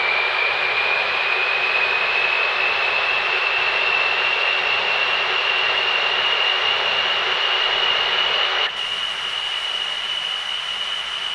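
A big turbocharger on a car engine spools up, a loud jet-like whine rising steadily in pitch over a broad rushing hiss, then the sound abruptly drops lower near the end.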